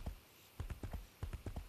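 A horse clip-clops in the video game Age of Wulin, a quiet, steady run of hoof strikes in short groups of two or three, with no voice over them.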